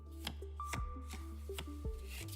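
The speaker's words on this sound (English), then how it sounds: "Focus on the smell of your garden while I shuffle my cards." A deck of cards shuffled in the video game The Cosmic Wheel Sisterhood, a series of quick, crisp riffling slaps repeating about every half second, close and clear over a soft sustained musical drone.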